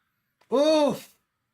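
A single harsh, croaking caw from an ugly bird creature in the Wuthering Waves video game, one rising-then-falling call lasting about half a second, loud and isolated against silence.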